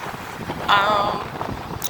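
Choppy surf washes against a beach on a breezy day, with wind buffeting the microphone in a steady rush and one louder gust or wave surge partway through, no voices.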